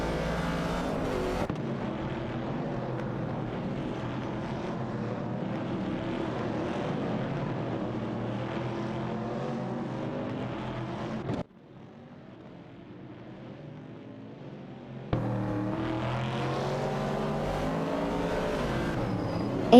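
Race car engines in a racing video game with Dodge Dart and Ford Mustang Boss cars, a dense continuous roar of several engines revving together, briefly dropping to a quieter stretch before the full pack noise returns.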